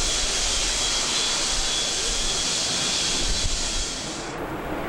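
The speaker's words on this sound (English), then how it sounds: "A full afterburner barrel roll." Russian Su-30 jet fighter roaring through aerobatic maneuvers at full afterburner, a loud, steady broadband jet rush lasting throughout, with the high hiss cutting off near the end.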